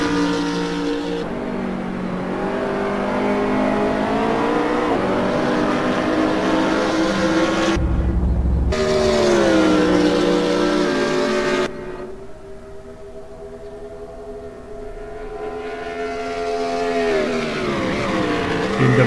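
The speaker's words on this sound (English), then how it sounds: "BMW Z4 GT3 sounding glorious through Stone Corner, shooting flames out of the exhaust as well." BMW Z4 GT3 race car in a sim racing game at Silverstone, engine roaring loud and close through Stone Corner with shifting revs, a brief cut in the middle, then easing and building again.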